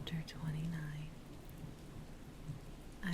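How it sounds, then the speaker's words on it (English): Steady rain on a surface during a thunderstorm, heard from indoors in a quiet library-like room, with a low rumble of thunder rolling underneath and soft, faint whispering over the constant patter. "I'm just going to continue sitting here reading in silence, listening to the thunderstorm."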